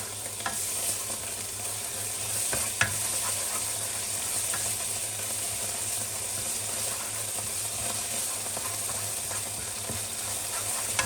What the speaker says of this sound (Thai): เติมกะทิ ผัดพอให้มันหอมนะคะ